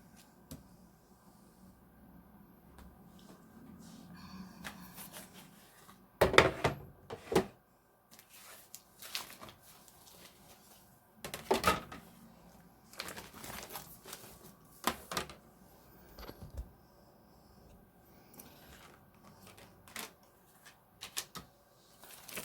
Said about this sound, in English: So I can die cut that now.